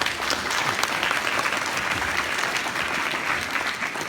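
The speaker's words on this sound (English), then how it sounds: "Let me give him a round of applause" Audience at a convocation ceremony applauding a guest: steady, dense clapping from a large crowd, loud and continuous throughout, with no voices over it.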